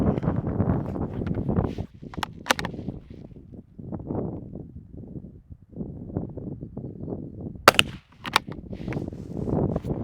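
Outdoors at a range, a .22 bolt-action rifle fires a few sharp, short shots, two close together early and two more later, over steady rumbling wind noise.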